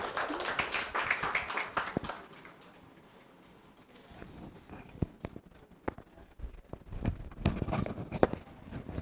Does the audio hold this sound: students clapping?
yes